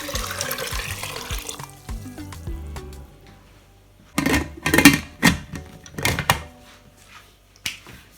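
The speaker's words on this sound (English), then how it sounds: "And here comes water." Water poured into a pressure pot holding corn and beans, with bursts of splashing and running liquid in separate pours after a quieter stretch of clinks and kitchen handling.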